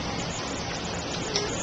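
Light rain during a windy Arizona rainstorm, heard as a steady, even broadband hiss with no distinct drops standing out.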